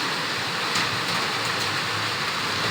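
Steady rain hisses continuously while white onions and patola (sponge gourd) steak are cooked, a dense, even wash of noise that stays constant and fairly loud, with no talking.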